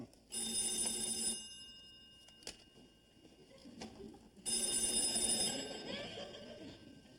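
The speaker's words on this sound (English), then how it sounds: "That's the phone." A telephone bell rings in two long bursts separated by a pause, fairly loud indoors, with faint room sounds between the rings.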